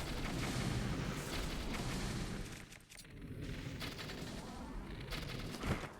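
Bombs blasting a group of Lizalfos in a Zelda game, a dense run of booming, crackling explosions that stays loud throughout, dips briefly midway and then surges again near the end.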